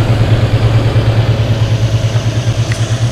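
A 1952 Oldsmobile Ninety Eight engine idles close by, a smooth, steady low rumble with an even pulsing throb and nothing else over it.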